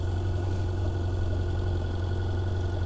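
A 2016 Ferrari 488 GTB engine idles with a steady, low, even rumble that holds without change throughout, and no voices are heard.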